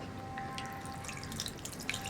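Tamarind water, squeezed out by hand, trickles and drips into a pan of raw plantain theeyal curry. The liquid patters softly and steadily, close up, with no talk.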